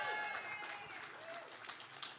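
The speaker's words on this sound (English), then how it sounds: "Round of applause for them." A comedy club crowd at Comix Roadhouse gives a round of applause, a soft, fairly distant clapping bed running throughout, with a voice speaking over it.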